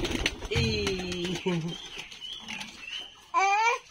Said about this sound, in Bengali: এই যে এদিকে আছে কবুতরের বাচ্চাও আছে